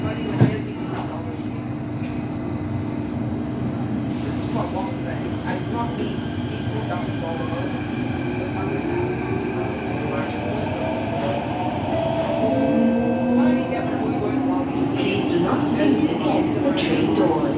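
Interior of a Singapore MRT Thomson-East Coast Line train departing Tanjong Katong toward Marina Bay: steady loud rumble of the moving carriage with rising motor whine near the end, and a voice briefly audible over the ride noise.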